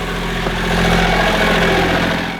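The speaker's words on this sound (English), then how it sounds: "That's the wonderful sound of the engine." A boat's engine idles loudly and close, a steady low throbbing rumble with an even mechanical pulse and no voices over it, heard after a recent oil leak.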